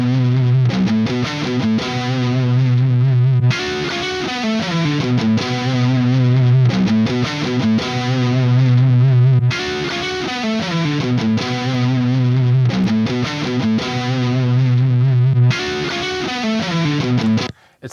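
Electric guitar lick played through a TONEX amp modeler, a distorted tone repeating the same phrase several times in a row, loud and close with no talking.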